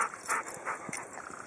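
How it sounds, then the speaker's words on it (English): Four backyard dogs eager for a tennis ball pant quickly and whimper close by in a brief, busy burst. "4 obnoxious dogs all wanting a tennis ball."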